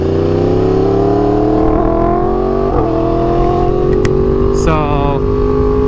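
A motorcycle with loud exhaust pipes riding through a populated area in traffic, its engine droning steadily and close, with gradually rising pitch and brief shifts in tone.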